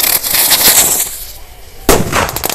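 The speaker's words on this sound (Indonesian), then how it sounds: "kita nyalakan guys mercon Sky Cruiser" Sky Cruiser firework launched at Lebaran: a loud run of sharp crackling bursts and hissing, a short lull, then another sudden bang followed by more crackle, close by and with no talk.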